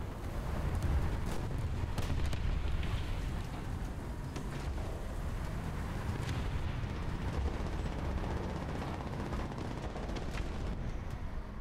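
Distant artillery fire in War Thunder, a continuous low rumbling barrage with scattered thuds and crackle across a battlefield, steady and fairly faint throughout.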